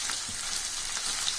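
Paneer frying in a pan gives off a steady, close hiss and crackle of hot oil, brief and continuous with no voices.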